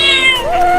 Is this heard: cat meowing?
yes